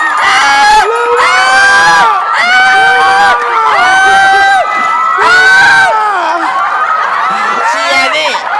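Thai talk-show studio audience cheering and shrieking in loud bursts, excited shouts and laughter rising and falling across several seconds, close and dense.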